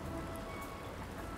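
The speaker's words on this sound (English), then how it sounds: "I hate to be stuck out in the rain out there" Rain falls steadily outside in a suspense roleplay ambience, a soft, even patter and hiss with no talking over it.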